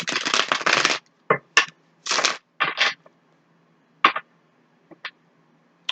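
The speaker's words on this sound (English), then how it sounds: "Let's just give them a couple shuffles." Cosmic Tarot cards are shuffled in a few quick riffling bursts, close and crisp, followed by scattered softer taps and rustles in a quiet room.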